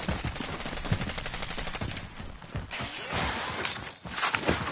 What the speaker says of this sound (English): I'm gonna cover fire, you guys.